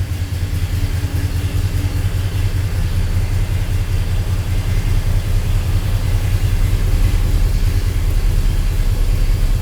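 A 1978 Ford F250 engine idles just after starting, a steady deep rumble holding even and loud throughout with no revving and no voices.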